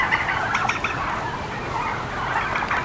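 A flock of turkeys on a farm gobbles and chatters nearby, a continuous overlapping clamor of many birds with no talking.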